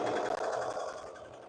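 Sewing machine stitching fabric for a tunic, running close and steady as one continuous buzzing whir with a brief stutter near the start, then easing slightly softer as it ends, no voices.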